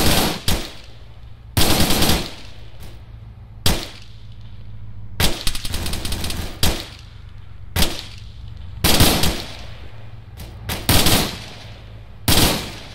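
Machine gun fire in the video game ARMA 3, loud sharp bursts of rapid automatic shots repeating every second or two over a low rumbling background, close and with no talking.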